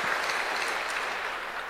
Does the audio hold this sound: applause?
yes